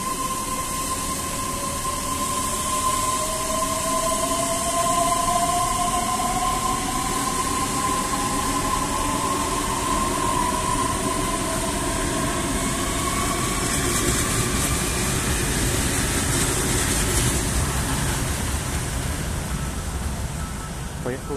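Inside a moving EP2D electric train heading toward Kuntsevskaya station, a constant loud rolling rumble carries rising and falling motor whines as it travels, with no talking.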